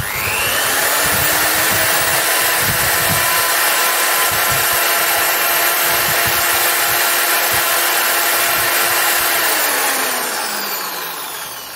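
Yasuka wall drill running steadily at its minimum speed, a loud continuous whine with a high motor tone held close for about ten seconds, then winding down at the end, with no speech.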